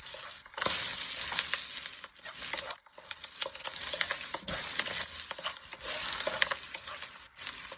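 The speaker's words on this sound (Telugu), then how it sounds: "రెండు రెబ్బలు కరివేపాకు వేసుకొని ఫ్రై చేసుకోవాలి." Curry leaves fry in a pan with a soft, steady sizzle and scattered crackles and scrapes, heard close but fairly quiet, with no voices.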